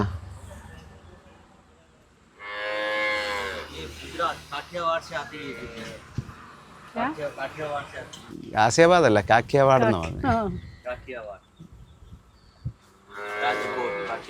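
Gir cows on a farm near Rajkot in Gujarat give loud, drawn-out moos at the start and again near the end, with people talking between and over them.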